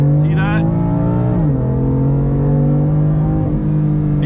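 A car with a dual-clutch transmission revs hard for a launch, its engine note climbing steadily with a dip at each automatic upshift around the middle and near the end, loud and close throughout.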